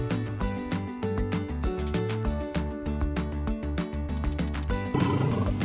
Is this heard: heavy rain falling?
no